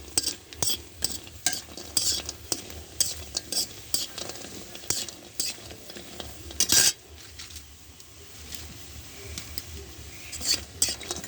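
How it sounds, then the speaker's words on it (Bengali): Wax gourd lentil dumplings (bori) fry in a pan with a steady, soft sizzle, broken by frequent sharp clicks and scrapes of a utensil stirring against the metal, close up and with no talking. "এই যে বড়িগুলো ভাজা হয়ে গেছে, আমি বেশি লাল করে ভাজবো না"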